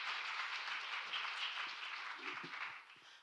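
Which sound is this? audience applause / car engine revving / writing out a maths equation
audience applause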